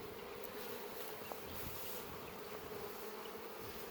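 Honey bees buzz in an open hive colony of gentle bees with healthy brood, a steady close drone of many wings holding without pause.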